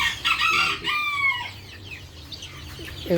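Brahma chickens crowing and clucking nearby, a rooster's drawn-out crow up front followed by scattered clucks and a short call at the end.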